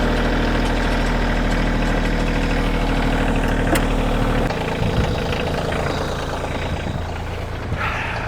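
A heavy tractor engine idles with a steady low rumble and vibration, then the tone shifts partway through as the load changes.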